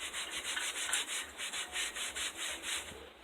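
Rhythmic back-and-forth rubbing of a cloth over a rusty bicycle frame during cleanup, a steady run of about a dozen close, scratchy strokes with no talk.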